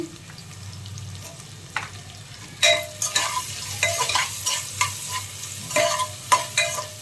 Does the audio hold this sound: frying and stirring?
yes